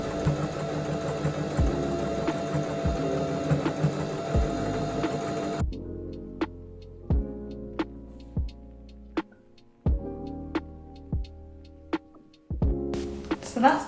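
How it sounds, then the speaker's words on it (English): A domestic sewing machine running in short bursts, stitching a zigzag seam to close a gap in a strap top, first a steady whirring run, then a series of separate quick stitching spurts with pauses between. "just close that gap with a zigzag stitch"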